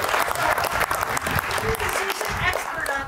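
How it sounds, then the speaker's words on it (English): A conference audience claps steadily in warm, sustained applause, with a voice speaking over it. "Please raise your hand. Clap for her."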